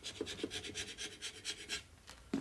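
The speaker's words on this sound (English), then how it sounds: "even though I scraped it with the other scraper, you can see how it gets the paint and stuff off" A hand scraper rasps paint and residue off a 1972 Harley-Davidson Sportster Ironhead engine case, in quick, rhythmic strokes close to the microphone that pause briefly before one final scrape.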